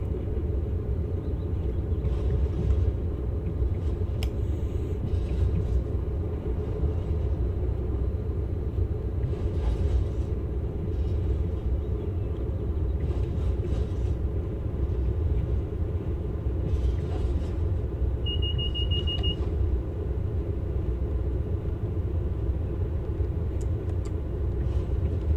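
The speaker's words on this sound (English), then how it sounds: "I'm going to apply the brakes for the 10 mile per hour speed restriction and our stop as we approach the upcoming overbridge." A Class 47 diesel locomotive in Train Sim World slows under braking on the heritage line approaching a station, giving a steady, loud low rumble throughout with a brief faint squeal near the end.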